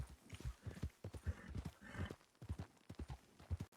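Horse hooves clip-clop in a steady, fairly loud rhythm in a rural county video game, with a brief whinny in the middle and no talking.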